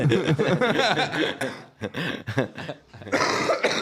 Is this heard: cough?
yes